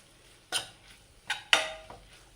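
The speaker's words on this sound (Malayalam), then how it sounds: "അപ്പോൾ നന്നായി ഒന്ന് മിക്സ് ചെയ്ത് കൊടുക്കാം" Dry fish masala stirred in a pan with a utensil, three or four sharp scraping clinks against the metal spaced about a second apart, close and distinct over a quiet background.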